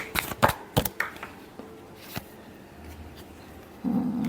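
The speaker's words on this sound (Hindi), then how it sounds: "last shuffle" Tarot cards being shuffled by hand in several quick riffling bursts near the start, then quieter handling and a soft rustle toward the end, close and fairly quiet with no talking.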